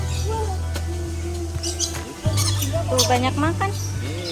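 Birds at Gembiraloka Zoo chirp and squawk close by in short, scattered calls, mixed with a low steady hum while an adult talks to a child.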